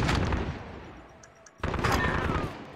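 Gunfire in Call of Duty: Modern Warfare Search and Destroy multiplayer, a loud rattling burst that fades, a short near-silent gap, then another burst of rapid shots resumes.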